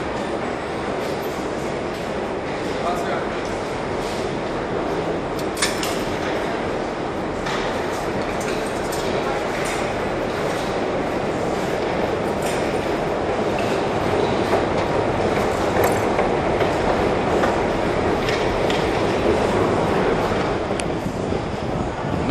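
A metro train runs through a tunnel of the Yerevan subway with a continuous loud rumble, clattering wheels on the rails and occasional squeals. The sound is close and sustained, as if heard from inside the carriage.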